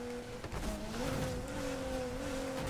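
A 1,000-horsepower Nissan GT-R in the racing game Need for Speed Heat slides under a hard handbrake, tires squealing with a wavering tone over engine drone for a few seconds.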